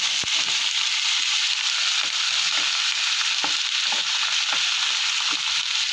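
Vegetables for pinakbet sizzling in a frying pan, a steady loud hiss of frying with occasional clinks and stirring scrapes throughout.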